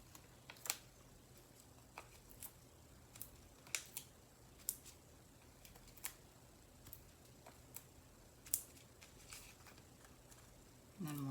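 Paper being trimmed for a sunflower greeting card makes sharp scissor snips, about a dozen crisp close cuts spaced irregularly over a quiet room.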